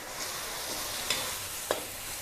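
Yellow chili paste stir-fries in hot oil for fish balls, making a constant close sizzle with a couple of faint utensil taps.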